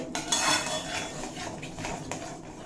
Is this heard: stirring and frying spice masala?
yes